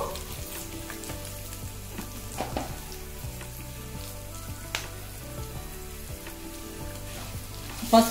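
Tempering of cashews and turmeric sizzles in hot oil for lemon or coconut rice, a continuous close crackle and hiss with faint stirring, ending in a brief louder clink.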